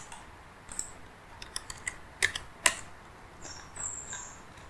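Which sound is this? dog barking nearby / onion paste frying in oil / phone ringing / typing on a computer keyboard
typing on a computer keyboard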